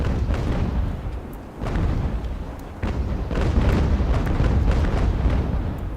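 Steady low rumble of heavy booms and blasts layered together, naval cannon broadsides in the video game Ultimate General: American Revolution, continuous and loud with no speech.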